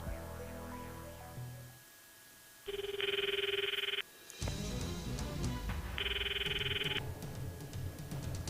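A phone rings in the video game Steins;Gate Elite: two electronic trilling bursts about three seconds apart over quiet background music, with no talking.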